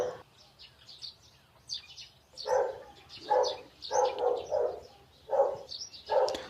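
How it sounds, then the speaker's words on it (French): Neighbours' dog barking somewhere outside, a string of about six short, muffled barks coming in an irregular rhythm and sounding moderately distant, with faint chirping birds audible in between. "il y a le chien de mes voisins qui aboie"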